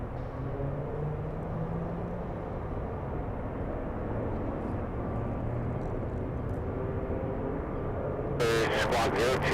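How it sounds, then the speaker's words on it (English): An Airbus A320 airliner at Los Angeles airport gives a steady, loud jet roar that holds throughout, with a brief burst of sharper noise near the end. "we'll fill the screen with an A320"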